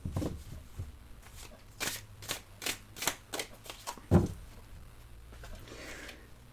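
Oracle cards being shuffled by hand for a card reading, a run of quick, soft riffling bursts with short pauses between them, close and quiet, with no one talking.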